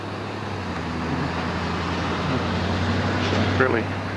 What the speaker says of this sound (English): Fairly busy section of highway through here, well traveled